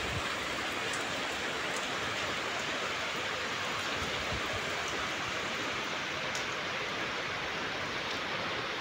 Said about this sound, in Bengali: সন্ধ্যের মুখে কীরকম জোরে বৃষ্টিটা এলো